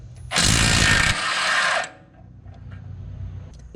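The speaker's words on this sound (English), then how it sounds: "Remove the bolt to the strut, 22mm." A ratchet wrench works a 22mm strut bolt on a BMW front suspension, giving a loud, dense burst of ratcheting for about a second and a half before stopping, followed by quieter workshop background.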